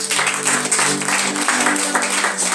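A congregation at a Sunday church service claps for Jesus in dense, continuous applause that holds steady at full strength, with faint voices and tones mixed in.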